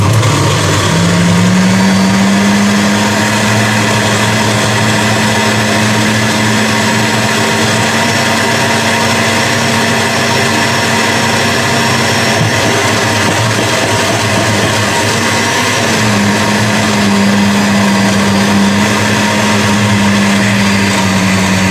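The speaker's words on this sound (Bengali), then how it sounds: "এতটুকু ব্লেন্ডার করছি, এতটুকু ব্লেন্ডার করছি" An electric kitchen blender grinds ginger and garlic in a steady, loud, whining motor drone with a sustained pitch that wavers slightly, running continuously without talk.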